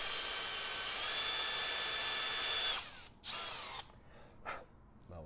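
A power drill bores into metal on a 2022 Triumph Street Triple RS motorcycle, a steady high whine that cuts off, then short bursts as the trigger is pulsed.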